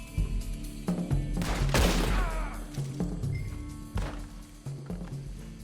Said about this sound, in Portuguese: Essas trocas de tiro muito próximas é ruim pra mim porque eu não tô com mira automática